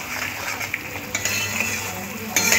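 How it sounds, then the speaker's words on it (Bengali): A spoon works fried prawns into a thick masala in a pan, giving soft scraping and clinking against the metal over a low, faint sizzle. No one talks. "ভেজে রাখা চিংড়ি মাছগুলো দিয়ে দেবো, দিয়ে মশলার সাথে একটু মিশিয়ে নেব।"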